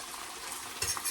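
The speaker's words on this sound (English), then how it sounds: "Sizzling away." Cube steaks fry in hot oil in a pan over high heat, a close, continuous sizzle and crackle with a brief louder spatter near the end.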